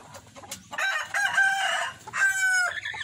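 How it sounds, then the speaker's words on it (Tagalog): A rooster crows loudly in long drawn-out calls, with hens clucking softly nearby on a free-range farm. "So yan po ang mga manok natin, mga sir."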